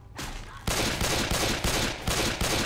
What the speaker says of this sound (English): I'm shooting all around that guy.